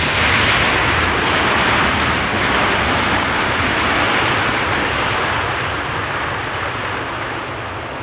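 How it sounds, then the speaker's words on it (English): A KLM Boeing 777-300 airliner arriving from Lima passes at Amsterdam Schiphol, a loud, broad steady jet roar that holds throughout and fades slightly toward the end, with no voices. "And this is KLM Flight 744."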